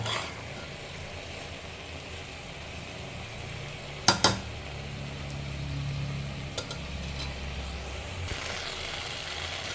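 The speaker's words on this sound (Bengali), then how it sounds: "সবজির সাথে চাল আর ডালকেও একসাথে কষাই নেব।" Rice and lentils stir-fried with vegetables in a pot for khichuri, heard as steady low scraping and a faint cooking hiss, with a few sharp clinks of a utensil against the pot near the middle.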